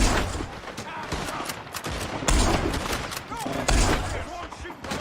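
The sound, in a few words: gunfire in the video game Red Dead Redemption 2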